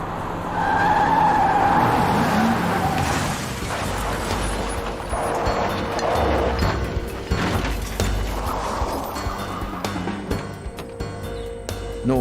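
A car skids and smashes through a police roadblock during a dangerous pursuit, with loud sustained tire and engine noise, mechanical clatter and impact debris across a dense, continuous roar.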